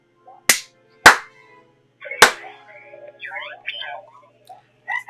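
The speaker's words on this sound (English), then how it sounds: "Not super responsive on the clap" Three sharp, loud hand claps ring out close by, unevenly spaced, followed by a person talking quietly.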